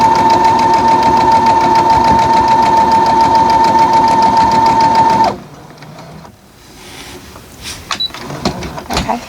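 A sewing machine stitches thick quilt fabric with a steady, loud, rapid mechanical whir for about five seconds, then stops abruptly, leaving quiet handling noises and small clicks.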